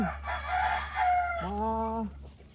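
A chicken's drawn-out, rising and falling call, loud and close, over a steady low hum, ending abruptly.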